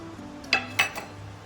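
Spoon scraping and clinking in a pan while stirring spices, diced capsicum and onion for a restaurant-style paneer masala, two sharp metallic taps then a softer one over a low kitchen hum.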